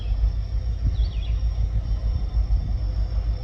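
The ELS 503 locomotive pulls 70 rail cars off a storage track with a deep, steady low rumble that drones on without a break, along with a faint high squeal from the rails, and no voices.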